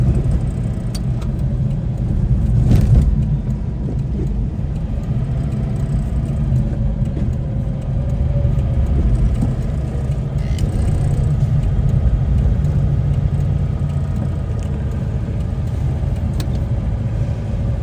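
A 1966 Citroen Ami 6 Berline, a small car in rat-look condition, trundles along on the road. Its engine gives a steady, close, low rumble that continues for the whole stretch, with a slight swell early on and no talk over it.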